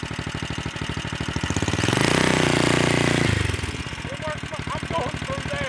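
A 420cc ATV engine running with four-wheel drive engaged, a steady near idle with a rising rev in the middle before settling back to a rough putter.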